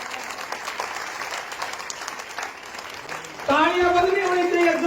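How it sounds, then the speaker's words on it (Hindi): An audience at an Indian public event, where a man addresses the crowd and then a sudden burst of loud applause breaks out and continues to the end as his voice carries over it. "खड़ा होकर एक बार जोरदार ताली बजाएं"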